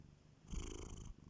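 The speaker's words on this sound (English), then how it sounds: "You're purring so loudly." A cat purrs close and softly in one continuous rumbling stretch lasting under a second, with no voices over it.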